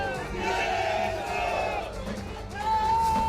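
A crowd celebrates a party's panchayat samiti election win in Sangola, a loud close mass of shouting and cheering voices that surges in waves and swells again at the end.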